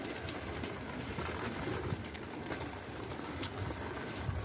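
Pigeons coo softly among patter that sounds like rain, low repeated calls in a steady, noisy outdoor background with no talk.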